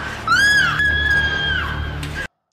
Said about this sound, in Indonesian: teriakannya terdengar oleh mereka